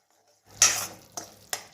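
A spoon stirs sugar syrup mixed with homemade ghee in a pan, giving three distinct scraping clinks against the metal after a quiet start, close and alone.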